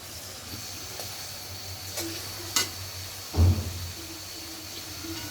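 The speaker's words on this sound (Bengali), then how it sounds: "আমি পেঁপে কষাবো তার জন্য হচ্ছে পেঁয়াজ দিয়ে দিলাম এবার আদা দিয়ে দেব" Onion and ginger frying in a pan for a papaya curry, giving a faint steady sizzle with a couple of light clinks and a dull thump near the end, no voices.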